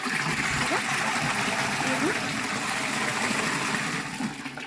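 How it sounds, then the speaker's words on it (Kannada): Water pours into a container while jeevamrutha is being prepared, making a continuous close gushing splash that stays loud throughout and eases slightly at the end. "ನಾನೀಗ ಈಗ ನೀರನ್ನ ತುಂಬಿಸ್ತೀನಿ ಇದಕ್ಕೆ"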